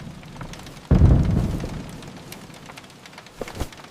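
Rain at night around an RV, soft patter with a sudden heavy low thump-like gust of rain or thunder early on that fades, followed by scattered drops and taps.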